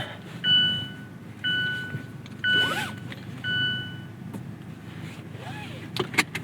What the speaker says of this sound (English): We're just gonna put the top down, and I love how quick this is. One-handed operation, just like that.